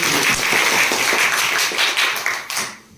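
Students in a school science quiz competition applaud a correct answer, a loud, close burst of many hands clapping that thins out and fades near the end.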